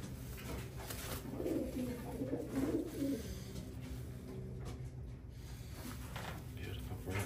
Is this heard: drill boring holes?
no